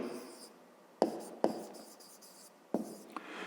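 A pen writes on paper while working a fifth-grade maths exercise, giving a few sharp tapping strokes followed by soft scratchy scribbling, quiet and close.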